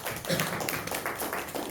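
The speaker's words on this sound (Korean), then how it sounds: "하나님께 영광의 박수 올려드리겠습니다." A church congregation at a youth worship service breaks into applause, a brief burst of scattered clapping heard at moderate distance in a reverberant room.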